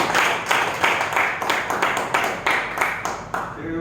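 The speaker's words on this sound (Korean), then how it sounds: "박수 좀 주시면 감사하겠습니다" A seated audience at a youth entrepreneurship lecture applauds in a steady, rhythmic wave of many hands, moderately loud and sustained throughout, with some voices underneath.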